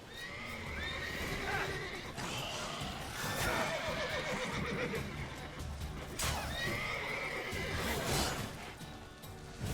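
Horses in The Witcher 3: Wild Hunt whinnying repeatedly with hoof clip-clops underneath, loud and close, several drawn-out neighs spread across a continuous game soundscape.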